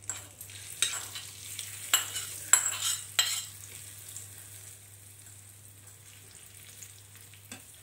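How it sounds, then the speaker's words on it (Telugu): Fried tempering of dried red chillies is stirred into coriander tomato chutney in a bowl, a series of quick scraping clinks and soft swishes in the first few seconds, then a faint, quiet tail. "ముందుగా వేయించుకున్న పోపు ఇందులో వేసేసుకోవాలి"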